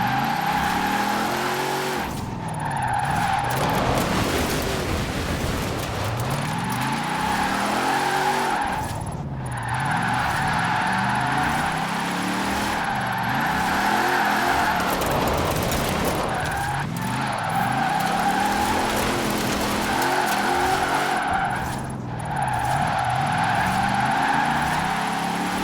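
A GMC Typhoon drifts through corners in the racing game Forza Horizon 4, its engine droning loudly while tires squeal in repeated long screeches, with brief dips as the car changes direction.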